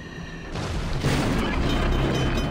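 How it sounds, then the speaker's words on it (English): Secondary battery guns on a Russian warship blaze away in World of Warships, a dense, continuous roll of booming shots and bursts rising after a quieter start and holding steady, loud and close. "Secondary's opening up like crazy."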